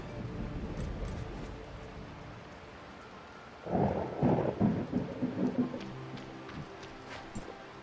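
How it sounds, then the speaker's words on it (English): A rumbling peal of thunder rolls through a storm with thick thunderclouds in Tower of Fantasy, breaking in midway over a soft hiss of rain and fading in uneven bursts. "A thick mass of thunderclouds. It seems that a strong storm is brewing."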